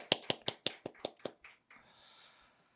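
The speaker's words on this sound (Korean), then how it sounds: "서로를 축복하면서 박수하겠습니다" A church congregation clapping together during a Sunday worship service, a run of about eight quick, evenly spaced claps that fades into a soft, lingering murmur.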